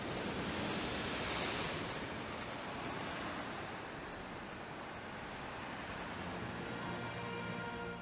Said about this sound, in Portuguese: São os barulhos sombrios produzidos pelos ecos das ondas